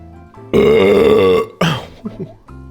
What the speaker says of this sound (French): Je vais tellement roter.